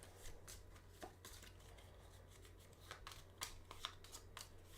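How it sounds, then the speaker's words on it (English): Cards from a Grim Reminders deck are shuffled by hand during a solo game of KeyForge, giving repeated soft riffling and slapping bursts at a quiet level with a steady low hum underneath and no talking. "shuffle my hand"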